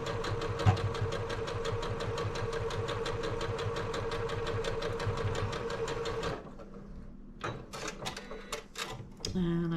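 A domestic sewing machine stitches fabric pieces for a wallhanging, running in a fast steady mechanical rhythm close up for about six seconds, then stopping into short clicks and handling noises.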